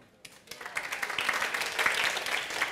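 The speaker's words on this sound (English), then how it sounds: "Can we just give her a clap?" Audience clapping during a teacher masterclass, starting after a brief quiet moment and building quickly into steady, fairly close applause from a room of people that holds through to the end.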